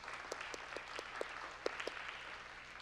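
Scattered, sparse clapping from a small audience at a talk on spectacular science demonstrations, individual claps standing out irregularly over a faint background hum.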